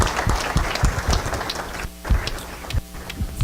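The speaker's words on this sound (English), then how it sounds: "let's give them a round of applause" An audience at a provider showcase event gives a round of applause, scattered, uneven clapping with a couple of brief dips in intensity.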